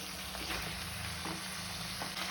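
Chilli chicken sizzles and fries steadily in a pan while being stirred, a continuous close hiss with faint scraping movements throughout.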